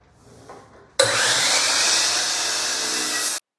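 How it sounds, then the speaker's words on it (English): A loud power saw abruptly starts and cuts through wood for a couple of seconds, then stops sharply; a faint rustle comes before it. "then we will get started cutting the wood"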